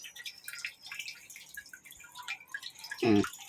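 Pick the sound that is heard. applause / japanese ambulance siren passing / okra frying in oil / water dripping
water dripping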